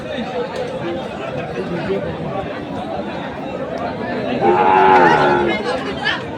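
Cattle, including Pakra bulls, at a livestock market in Nilphamari, with a low moo rising clearly for about a second near the end over steady crowd chatter and nearby voices.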